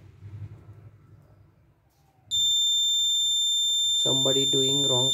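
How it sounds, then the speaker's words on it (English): A loud, continuous high-pitched electronic alarm tone from a Raspberry Pi Pico bank locker security system, triggered by a wrong password, sounds steadily, starting abruptly after quiet murmuring, with a person speaking over it near the end. "alarm on"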